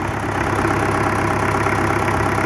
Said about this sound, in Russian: Мотор робить ровно, все, нічого не стукає.